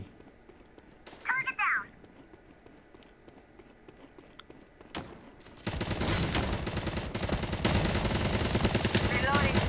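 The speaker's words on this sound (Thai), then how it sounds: "มันยิงรัวเลย" Rapid gunfire in the shooter game MATR1X FIRE: a brief shot early, then a dense, continuous burst of automatic fire that keeps up loud and near for several seconds.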